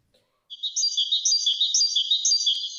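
A great tit sings its song, a rapid, staccato, stereotyped repetition of bright notes delivered clearly and alone for about two seconds after a brief quiet start.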